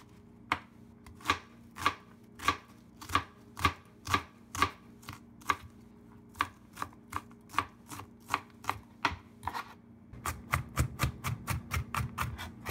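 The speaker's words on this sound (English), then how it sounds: "Mince one garlic and a half onion into small pieces." Garlic and onion are minced with a knife on a cutting board, sharp chops roughly every half second, then a faster, steadier run of chopping near the end, close with no voices.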